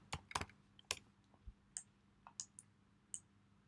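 A computer mouse is clicked during mechanism design work, giving sharp, close clicks: a quick cluster at the start, then scattered single clicks spaced through the quiet background.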